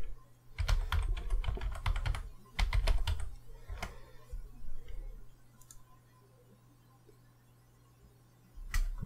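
Close clicking on a computer keyboard comes in two quick bursts of keystrokes, then a few scattered taps and a quiet pause before a final click, over a faint steady hum.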